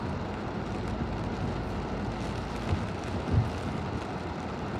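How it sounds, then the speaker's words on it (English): Rain hisses steadily during storm chasing in Oklahoma, a broad, continuous wash mixed with low vehicle rumble and a couple of soft thumps, with no talk. "this rain's about to pass over us"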